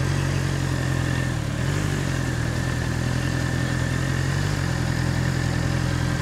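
Honda CBR650R motorcycle engine running steadily near the microphone as the rider releases the clutch, a constant mid-pitched rumble with a slight shift in tone partway through, no voices.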